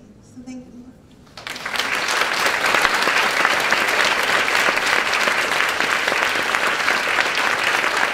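An audience breaks into loud, sustained applause after a faint opening moment at a Mark Matousek and Eve Ensler conversation event, the dense clapping holding steady to the end.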